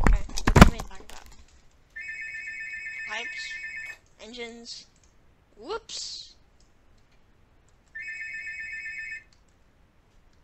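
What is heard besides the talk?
telephone ringing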